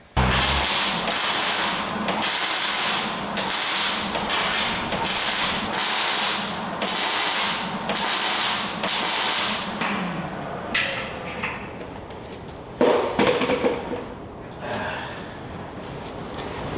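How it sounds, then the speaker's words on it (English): Strong wind gusting outside a workshop, a broad rushing roar that surges in repeated waves for most of the stretch, then thins into scattered gusts and thumps near the end. "It's really windy outside. That's all the noise you're hearing."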